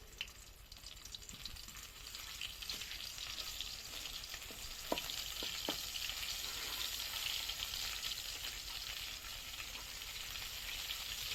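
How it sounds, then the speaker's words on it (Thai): Sesbania flowers with shrimp paste are stir-fried in a pan, giving a steady, fairly quiet sizzle with a few light scrapes and clicks from stirring, and no one talking. "ผัดให้เขา โดนความร้อนให้ ทั่ว นะ ครับ"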